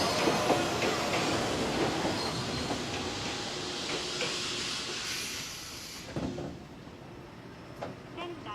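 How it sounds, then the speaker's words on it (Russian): A train rolls into a station with rumbling wheels, clattering and a brief hiss, loud at first and then easing as it slows, while station sounds carry on around it. "Прибывает поезд, вышедший из Скогута в 17:35."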